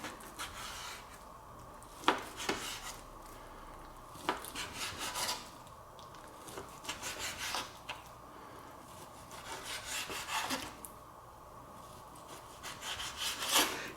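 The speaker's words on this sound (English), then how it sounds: "I'm just going to take our ½ pound of thin sliced lean pork and chop it into bite-sized pieces" A knife chops thin-sliced lean pork into bite-sized pieces on a cutting board, a steady run of soft, close rasping cuts with brief pauses between bursts and no talk.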